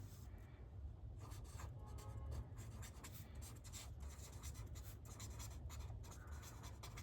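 Pen scratching steadily across paper while handwriting notes, a continuous soft scraping with small strokes and pauses, close and quiet with no talking.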